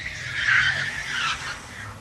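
A drift car skids and spins on a patchy muddy track at a 2005 D1NZ drifting event, a rising, whooshing tire scrub with engine roar over about two seconds.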